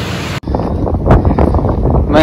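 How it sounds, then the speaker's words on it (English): Gusty wind buffets a microphone outdoors beside a shop building under construction on a cold day, a loud, steady rumbling roar that briefly cuts out and then swells again. "Now it's all windy and cold."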